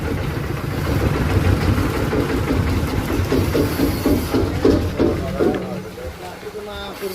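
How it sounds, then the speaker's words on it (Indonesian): A 30 HP diesel engine with double starter runs an organic and inorganic waste sorting machine, a loud steady rumbling drone with rhythmic mechanical knocking and clatter throughout, fading slightly toward the end. "Gerak diesel 30 HP."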